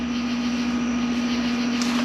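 A large Cummins diesel boat engine runs steadily nearby, a constant droning hum with a strong low tone and no change in pace.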